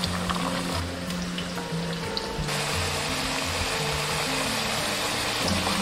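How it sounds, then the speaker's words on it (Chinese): Taro chunks shallow-frying in cooking oil over medium heat, browned before braising with pork ribs, make a continuous close sizzle over a low steady hum, with no one speaking. "这个芋头先过油炸一下"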